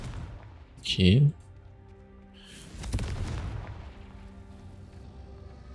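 Confringo fire spell cast in Hogwarts Legacy: a whooshing burst followed a second later by a deep rumbling blast that fades out, with a brief spoken word nearby.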